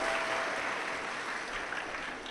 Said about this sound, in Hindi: एक बार जोरदार ताली बजाकर इन सभी यजमान परिवार के लिए साधु का